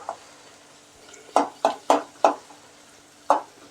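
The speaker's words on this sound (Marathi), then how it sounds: "कांदा आपला परतो द्या मस्त आपला गॅस फास्ट करतो" Onions sautéing in a pan over high gas, stirred with a spatula: four quick, evenly spaced scraping strokes, then a pause and one more, close and distinct over a faint background sizzle, no talking.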